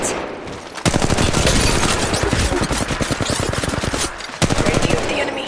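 Gunfire in the mobile video game Apex Legends Mobile: loud, rapid automatic bursts rattling almost continuously, with a brief gap before a final burst.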